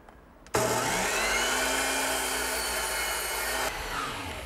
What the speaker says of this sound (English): now I'll just bring the pieces over to my power miter box and square up the top